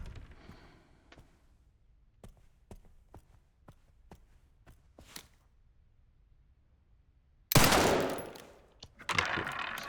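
Gunfire in the survival-horror game Resident Evil 9 Requiem: a series of sharp, spaced single shots, fairly quiet, followed by a loud burst of noisy in-game action near the end.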